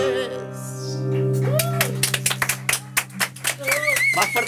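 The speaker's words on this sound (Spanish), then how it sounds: "Más fuerte el aplauso" A studio audience claps for a Chilean singer on a TV stage, irregular clapping rising after a sustained musical chord, with a voice speaking and some laughter over it.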